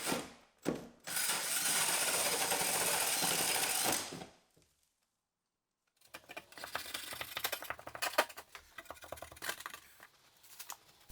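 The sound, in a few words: drilling a big hole through wall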